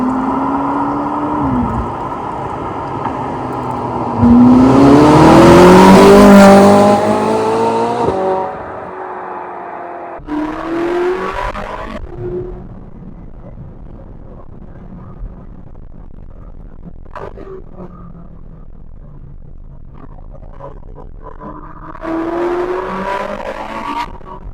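A Ferrari 458 accelerates along a narrow B road. The engine revs up to a loud, rising high-pitched wail, then drops back into quieter cruising with gear changes and a further rev building near the end. No one talks.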